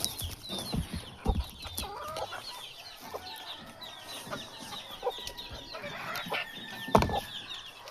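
A flock of backyard chickens clucks busily while being fed, with overlapping calls, occasional louder squawks and brief wing flaps, close by and without talk.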